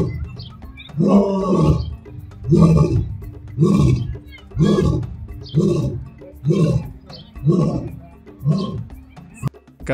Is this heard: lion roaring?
yes